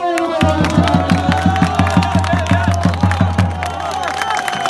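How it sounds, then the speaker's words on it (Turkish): At an outdoor village final-match award ceremony in Özbaşı, a crowd claps in a steady rhythm alongside a pounding drum-like beat and a sustained tone. Cheers and chatter come through, and the beat fades out near the end. "Aşağı mahalle alkışlar."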